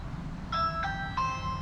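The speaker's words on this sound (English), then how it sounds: "whenever somebody rings the bell," A Ring Video Doorbell V2 chime plays a short three-note electronic melody, bright and fairly close, with each tone ringing briefly over a low background hum.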